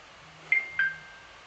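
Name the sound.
mobile phone notification sounds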